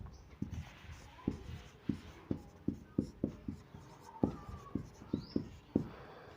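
Pen scratching on paper while working a class 8 linear equations math problem, a steady run of short distinct strokes and taps, close and moderately loud, with no talk.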